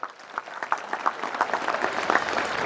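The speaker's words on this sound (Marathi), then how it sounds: "एकदा हनुमंतरासाठी जोरात टाळ्या व्हायला पाहिजे" Crowd clapping for Hanuman at a Shri Ram Navami celebration with maha-aarti and satsang, a steady wash of many hands with a few louder claps standing out, sustained at moderate volume throughout.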